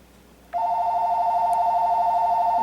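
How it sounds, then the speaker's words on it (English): A phone rings in a room where a used thrift-store PS3 is hooked up to a TV, sounding as one loud, steady electronic tone that starts abruptly and holds without a break. "That is a phone."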